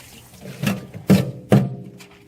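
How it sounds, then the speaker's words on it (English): A shovel pries and lifts wet soil in a flooded yard during a French drain dig, with three squelching, sloshing scoops and splashes of muddy water, close and fairly loud. "nobody likes to dig in water, and you can see you got to really pry up that stuff to get it out of there"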